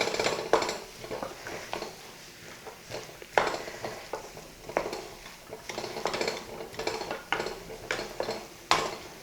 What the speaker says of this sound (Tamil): அந்த அளவுக்கு இதை கொஞ்சம் கிளறி விடணும்.